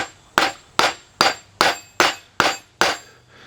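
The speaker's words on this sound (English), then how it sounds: "I've switched to a rawhide head hammer here to be a little bit" A rawhide-head hammer drives a part into a Dana 60 axle with seven evenly spaced, firm thuds, each sharp strike followed by a short ringing decay, close and loud with no talk.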